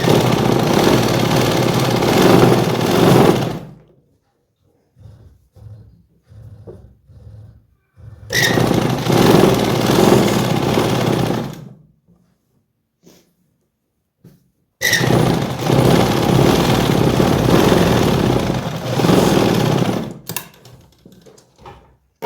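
A sewing machine stitches a straight seam on palazzo pants in three loud, close bursts of fast, even whirring. Short quiet pauses separate the bursts and carry faint handling noises.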